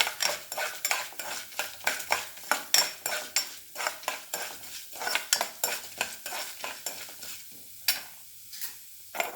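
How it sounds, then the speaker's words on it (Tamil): Chana dal is dry-roasted in a pan while a metal spoon stirs and scrapes it in quick, rhythmic strokes. Faint sizzling sits under the clatter, close and steady throughout. "கடலைப்பருப்பு, நல்லா பொரிகிற வரைக்கும் செவக்கிற வரைக்கும் வறுக்கணும்."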